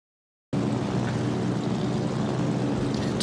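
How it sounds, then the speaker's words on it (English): German aircraft in World of Warships roar overhead, a loud, steady engine drone that starts abruptly after a short silence and holds for a few seconds, with no voices. "Do German planes sound more evil?"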